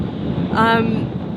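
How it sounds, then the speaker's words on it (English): Wind during a snowstorm in Iceland rushes and buffets against the microphone in a steady roar, swelling briefly in the middle. "that is the wind blowing right now"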